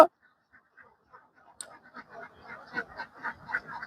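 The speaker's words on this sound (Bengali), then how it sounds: "এই যে হাঁসের কামার দেখেন দেখেন আমাদের হাঁস এখানে দুই হাজার হাঁস" Laying ducks kept in an enclosed duck farm housing around two thousand birds. After a near-silent start, a cluster of soft, fairly close quacks and honking calls rises and continues in irregular bursts.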